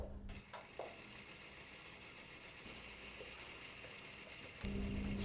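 A domestic sewing machine stitches fabric, giving a steady, continuous mechanical whir that holds for several seconds, then gets louder near the end. No one speaks.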